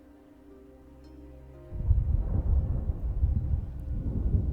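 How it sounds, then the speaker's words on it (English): Thunder in the video game Arknights: after a quiet low hum, a sudden deep rumbling roar breaks out and rolls on loudly and continuously, with no voices. "Where did that huge thunder come from all of a sudden?"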